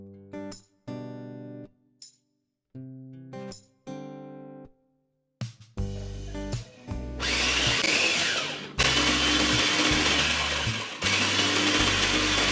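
A food chopper whirs in several short bursts with pauses while chopping chocolate milk pudding mixture with water, then settles into a longer, louder continuous blending run, close by.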